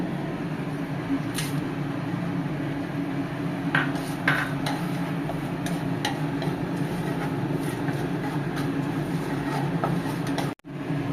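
Cloves, cardamom, cinnamon, dried chilli and bay leaf tempering in hot oil for a paneer dish give a steady, close sizzling hiss, broken by a few light metallic clinks from the pan, with no voices.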